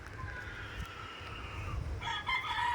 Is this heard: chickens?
yes